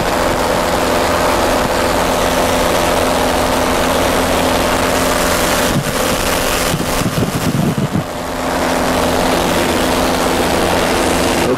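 The engine and propeller of a yellow biplane drone loudly and steadily during the takeoff climb, a dense close-up roar with wind buffeting and a brief dip in the rumble near the end.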